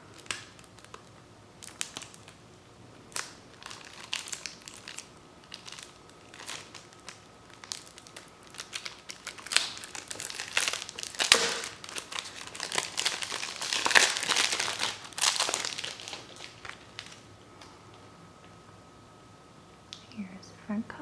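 Plastic wrap being torn and peeled off a Nintendo Switch game case for Phoenotopia: Awakening, close crinkling and crackling that starts sparse, swells into a loud run of ripping in the middle, then fades.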